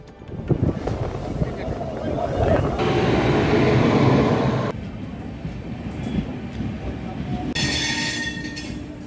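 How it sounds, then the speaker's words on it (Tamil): Mysuru express train at Chidambaram station, arriving from Cuddalore, with loud continuous rumble and wheel noise, shifting hiss and a high squeal near the end, crowd murmur faintly beneath. "கடலூரிலிருந்து புறப்பட்ட மைசூரு விரைவு ரயில் சிதம்பரம் வந்தபோது"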